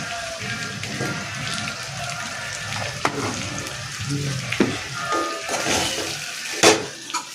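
Boiled potatoes fry in a pan with curd and salt, giving a steady crackling sizzle under scattered scrapes and clatters of a spoon against the pan, with one louder knock near the end.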